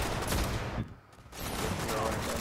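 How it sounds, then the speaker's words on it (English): Dense gunfire and explosions in the shooter game Destiny, a continuous loud burst that briefly dips before resuming, with no talk over it. "There's a lot of explosions going on."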